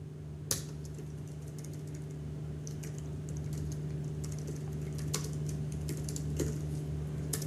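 Someone types code on a computer keyboard in a quiet room, with a steady run of light key clicks and a few louder thumps standing out over a low hum.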